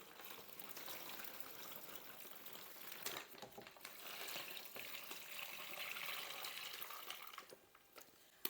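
Water gushes steadily into a bag holding a whole turkey and brine for smoking, a continuous splashing pour that swells louder toward the end, with no talk.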